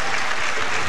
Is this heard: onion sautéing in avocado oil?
no